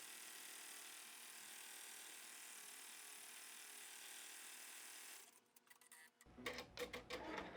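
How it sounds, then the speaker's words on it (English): An embroidery machine stitches the yellow center of a fabric flower, with a steady mechanical hum that gives way near the end to quick, close, rhythmic clattering needle strokes. "what it's going to do now is stitch out that little middle part of the flower, the yellow."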